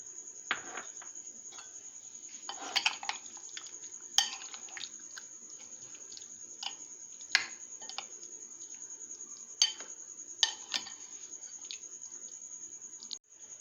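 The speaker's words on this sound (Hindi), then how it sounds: "नींबू का रस और हाफ कप दही डालकर मिक्स करेंगे।" A spoon mixes chicken with lemon juice, black pepper and half a cup of yogurt in a bowl for a creamy Mughlai malai chicken marinade, giving sporadic light clinks and taps against the bowl over a quiet background.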